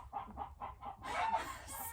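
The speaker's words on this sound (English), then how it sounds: "Pardon the chickens in the background." Several chickens cluck and fuss close by, rhythmic clucks at first and then a louder burst of overlapping squawks and calls, with no talking.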